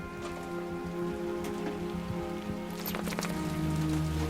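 Rain falls steadily at a bear rescue near Smithers, a constant close patter on surfaces with scattered heavier drops and no talk.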